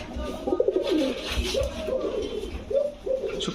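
Fancy and Giribaz pigeons coo close by in soft repeated throaty phrases, several rolling calls in a row with faint background noise.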